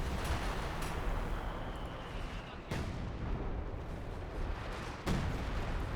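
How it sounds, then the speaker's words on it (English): A sector artillery barrage in Company of Heroes 2 sounds as distant rumbling fire under a dense battle din, with two sharp loud blasts standing out near the middle and end. "It's actually barraging. Oh, it looks like a sector artillery."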